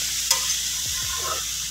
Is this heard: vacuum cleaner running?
no